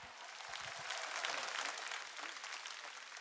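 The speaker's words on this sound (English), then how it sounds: "Please applaud" A concert crowd claps in response to an on-stage prompt, the applause swelling slightly midway and staying moderately distant and soft, with a few stray voices mixed in.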